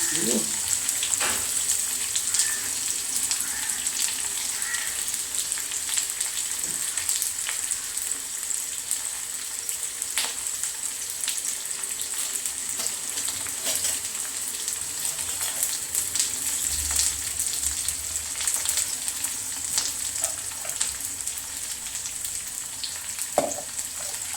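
Shallots frying in hot oil with popped mustard seeds for lemon pickle give a steady close sizzle with a few light clicks and stirring scrapes, with no talk.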